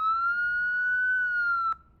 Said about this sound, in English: right now, we saw the police siren